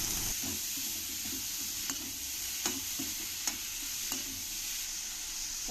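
Cabbage, carrot, beans and capsicum sautéing for fried rice, a steady soft sizzle in the pan with a few light scrapes and stirring taps spaced through it, no voices.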